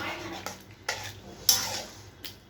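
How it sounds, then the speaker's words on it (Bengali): Spoon stirring boiled peas in a cooking pot: a few distinct scraping clinks spaced about half a second apart against the metal, close and fairly quiet, with a low sizzle underneath. "মটর দিয়ে একটু নাড়বো"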